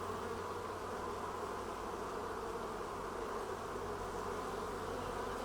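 A linden tree full of working bees hums with a thick, unbroken drone, the massed buzzing loud and even throughout in the Pays de Fayence countryside, with no speech.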